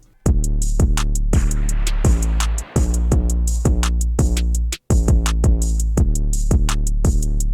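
A combined electronic drum pattern drives steadily, with booming kicks, crisp open hi-hat hits on a regular pulse and a brief dropout twice along the way; loud and upfront, with no one talking.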